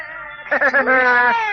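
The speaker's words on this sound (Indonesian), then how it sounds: "Paling pusing kalau dengar bayi menangis." A baby crying in an Indonesian radio drama, a short, loud wavering wail that rises and holds for about a second.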